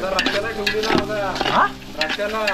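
Onions sizzle and get stirred in a pot of chicken cooking over a village wood-fired stove, a steady fry under a string of clinks and scrapes, with voices talking in the background.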